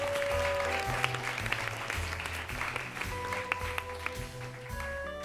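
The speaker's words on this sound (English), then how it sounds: "Let's give them a little round of applause." An audience applauds at an arts event, a fairly faint, steady wash of clapping that continues alongside a low rhythmic musical backing.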